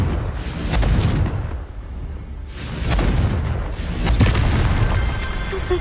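In Hogwarts Legacy, the Confringo spell sets off deep booming explosions, loud and close, swelling in three rolling waves with crackling debris and no speech.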